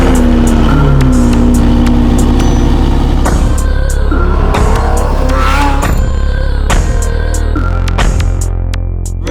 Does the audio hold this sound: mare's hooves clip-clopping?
no